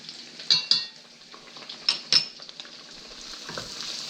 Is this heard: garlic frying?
yes